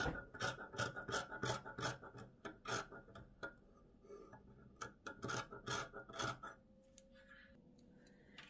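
Scissors cutting plush fabric lining for a vest, a steady series of close rhythmic snipping and rasping strokes that slows near the end, with no talking.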